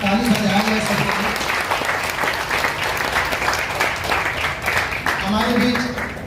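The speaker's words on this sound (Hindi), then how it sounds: "उनके लिए एक बार विशेष गुंजयमान हो ताली बजाया जा सके" A hall audience at a government event in Patna applauds a central minister with sustained loud clapping from start to end, while a voice talks briefly over it near the beginning and the end.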